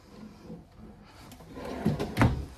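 A full-extension plywood drawer on ball bearing guides slides along its runners and closes with a couple of soft knocks, close by in a quiet 2024 Keystone Cougar 364BHL fifth-wheel trailer.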